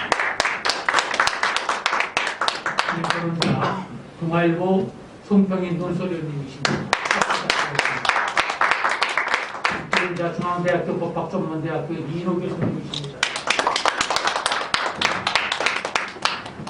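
A seminar audience claps as the panelists are introduced, bursts of applause at the start, middle and end alternating with a presenter speaking over a microphone between them.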